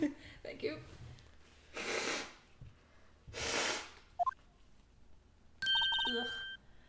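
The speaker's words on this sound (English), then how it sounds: "I'm still blowing my nose." A person blows their nose in two loud, breathy honking blasts about a second and a half apart, with sniffs and small noises around them, followed by a short high electronic tone.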